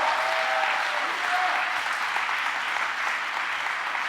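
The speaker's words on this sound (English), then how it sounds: "just give a round of applause for our 2020 graduates?" Audience applause honoring 2020 graduates, dense continuous clapping from a crowd, loud and even, with a few faint voices or cheers briefly audible early on.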